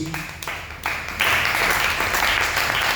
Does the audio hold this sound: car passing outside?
no